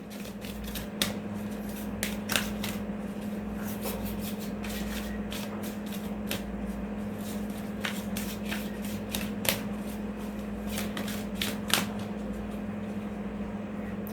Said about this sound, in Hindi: यहाँ व्यूअर्स चलिए आपके लिए हम कार्ड्स लेते हैं,